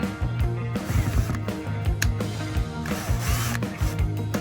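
Screws driven into a Redmax strato-charged gas trimmer with a power drill in repeated short bursts, close and fairly loud, with ratcheting mechanical clicks between them and no talk.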